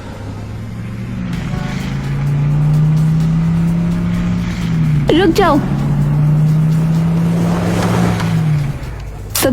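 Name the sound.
shiny car arriving, cartoon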